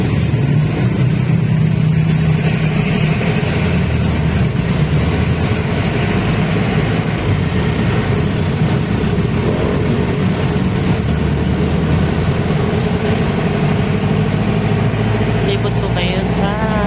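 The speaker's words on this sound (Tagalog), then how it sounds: "Traffic." Road traffic on the way through Laguna toward San Pedro, a loud steady rumble of car engines and passing vehicles heard from close by, continuous throughout with a person talking over it.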